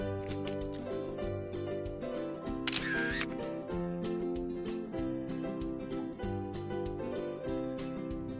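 A single camera shutter click sounds briefly in an animated folk-tale film, set against steady background music.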